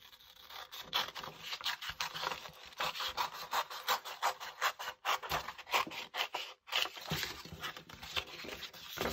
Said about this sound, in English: let's cut that shape out roughly